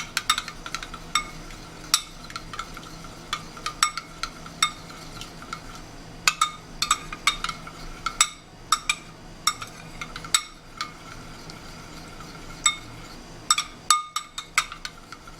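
Mixing oil with orange peel and other ingredients in a glass container, giving repeated sharp clinks and taps of a utensil against glass in an irregular rhythm, close and fairly quiet, with no talking.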